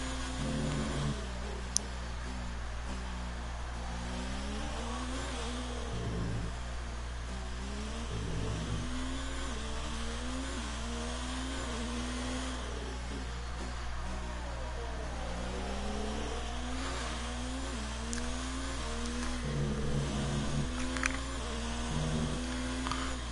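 A Ferrari Formula 1 car engine in the video game F1 2019 at the Brazilian Grand Prix, a steady high whine that rises and falls through repeated gear shifts, loud and continuous.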